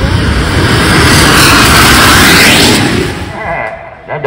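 Luk nu fireworks rocket at a temple festival at Wat Bang Pho, Pathum Thani, launching with a loud, sustained roaring whoosh that fades after a few seconds, very close and dominating.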